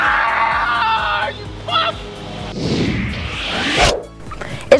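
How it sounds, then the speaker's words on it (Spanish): A boy screams in loud, wavering bursts, with harsh, noisy cries and a breathy shriek that swell and break off, then a brief sharp sound at the close. "mirad cómo grita"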